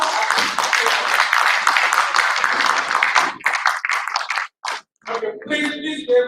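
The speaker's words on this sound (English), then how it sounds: "So we give ourselves a big hand of applause." Audience at a university event breaks into sustained, dense applause filling the room, then thins out as a voice begins speaking near the end.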